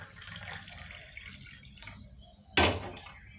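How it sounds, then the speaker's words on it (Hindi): Freshly boiled hot water is poured into a glass, heard as one brief, bright splash that stands out clearly over a faint, steady background hiss. "पानी जो है हमारा बॉईल हो चुका है, तो उसको सीधे कर लेते हैं अपने गिलास में।"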